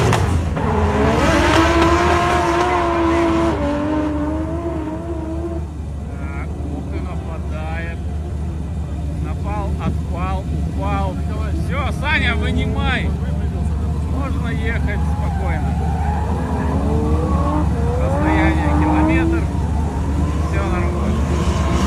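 A race car engine roars and revs through a competition run, heard from the sidelines as a continuous buzzing drone with rising and falling pitch, while spectators chatter over it throughout.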